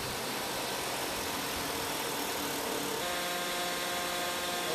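A hydraulic variable displacement motor running at zero swash angle, giving a steady loud mechanical hum and whine with a tonal shift partway through, continuous with no speech.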